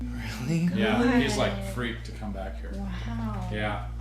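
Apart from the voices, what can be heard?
No distinct noise like a dog, phone or traffic.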